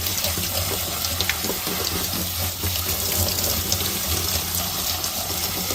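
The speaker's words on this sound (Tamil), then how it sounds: "வாங்க இப்போ அவலை க்ளீன் பண்ணிடலாம்." Tap water runs steadily into a kitchen sink while matta flattened rice (poha) is rinsed, making a close, continuous splashing gush with small wet shuffles of the grains throughout. No voices are heard.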